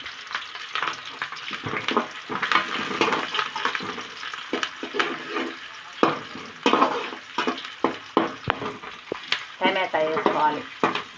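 Onions frying for a home-made fish curry crackle and sizzle in a pan, interspersed with repeated stirring scrapes and clatters, close and fairly loud throughout.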